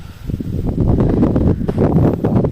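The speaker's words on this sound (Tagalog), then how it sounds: "Sobrang hangin." Strong wind buffets the microphone in a low, continuous rumble with gusty swells, close and loud, with no voices.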